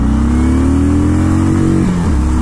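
A motorcycle engine revs hard as the bike pulls away from a standstill, its pitch climbing steadily for about two seconds before a brief dip at a gear change. It is loud and close, with no talking.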